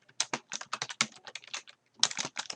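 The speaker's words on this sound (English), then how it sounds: "The comment that I'm going to type in here is check this flight number." Quick, quiet clicking of keys on a computer keyboard as a comment is typed into a Word 2013 document, irregular bursts of taps with a brief pause partway through.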